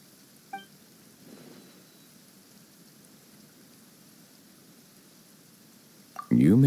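Sudden rain in the game Genshin Impact, a faint, steady hiss of falling rain with a few soft drips, cut off by a loud burst of sound at the end.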